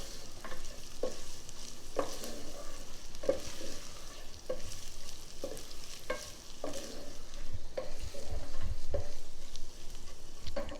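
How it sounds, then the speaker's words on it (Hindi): Chicken fries in a pan for fried rice, a continuous sizzle broken by regular scraping stirs about once a second, close and moderately quiet with no talking. "चिकन ऐड करने के बाद आपने इसे 1 मिनट के लिए भूनना है"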